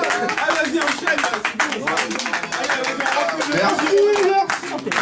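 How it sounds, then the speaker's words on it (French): Studio audience clapping on a Godjo TV show, a dense steady patter of many hands filling the whole stretch while a host's voice and music-like tones sit over it. "On applaudit, Matt."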